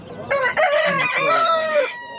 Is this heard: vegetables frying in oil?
no